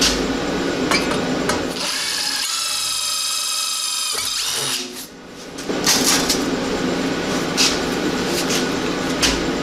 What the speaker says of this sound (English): Then we're gonna go ahead and drill a pilot hole.